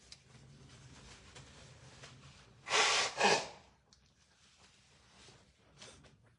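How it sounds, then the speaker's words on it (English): Two forceful, noisy bursts of nose blowing, one right after the other, close to the mic and otherwise quiet. "I have to blow my nose"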